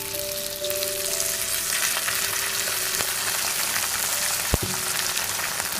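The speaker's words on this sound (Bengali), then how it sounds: "দেখুন শিমগুলো এবারে ভালোই ভাজা হয়ে গেছে" Flat beans fry in a pan with a dense, continuous sizzle and occasional light stirring clinks. One sharp knock is heard near the end, and no one speaks.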